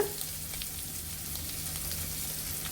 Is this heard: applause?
no